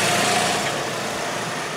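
A Chevrolet Captiva Sport 2.4 engine runs at a steady idle after a water pump and timing chain replacement, a continuous close mechanical hum with no voices.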